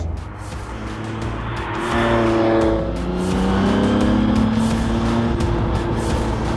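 The engine of the Adamastor P003RL, a Portuguese-built sports car, roars and revs close by, pitch climbing and falling as it pulls hard, loud and continuous throughout.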